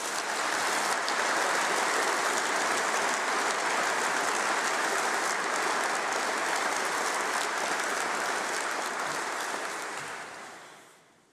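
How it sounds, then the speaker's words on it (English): Sustained applause from the audience at a university summer congregation honouring PhD graduates, dense and steady for about ten seconds before tapering off at the end. "I think our doctors, our doctorates, our PhD students deserve a huge round of applause."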